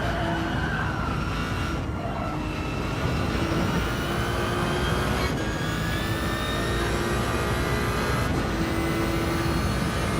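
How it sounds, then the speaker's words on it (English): Ferrari race car in Gran Turismo 7 during a Le Mans 24-hour endurance race, its engine droning steadily and loudly with a sustained high whine from the gearbox running under it the whole time, no talk. "I just like the sound of the Ferrari with the gearbox."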